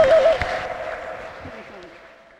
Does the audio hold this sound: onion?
no